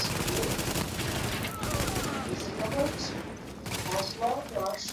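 Dense bursts of automatic gunfire from The Division, a loud, continuous fusillade with a few gaps, while players talk over it.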